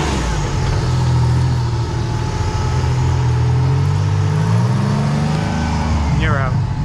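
A rock crawler from a W.E. Rock Sportsman A Class C course revs its engine as it drives out of the course, a loud, steady motor drone with voices calling out over it near the end.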